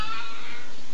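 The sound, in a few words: cat meowing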